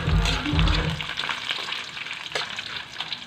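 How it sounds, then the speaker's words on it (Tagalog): Banana slices dropping into hot oil for a second fry, a loud initial splash and burst of bubbling that settles into a steady, fairly close crackling sizzle. "pangalawa na po itong fry guys. Ilalagay ko na to guys."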